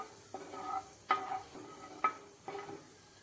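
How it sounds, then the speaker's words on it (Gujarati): Cumin seeds in hot oil, heard as a quiet sizzle broken by four or five distinct stirring scrapes of a spoon in the pan, close and fairly soft. "હવે આપણે તેમાં અડધી ચમચી ભરીને જીરું નાખી દઈએ. જીરાને આપણે થોડી વાર માટે સાતળી લઈએ."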